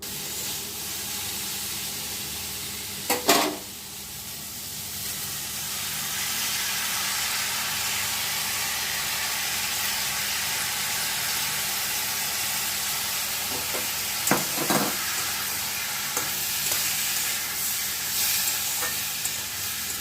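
Barnyard millet (shyama dana) is stirred into frying vegetables in a pan, a constant close sizzle broken by a few scraping strokes of the spoon, with no talking.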